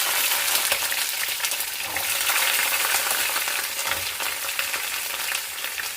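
Whole, unpeeled small onions fry in hot oil in a pan for sambar, giving a steady, bright sizzle with no pauses and no talking.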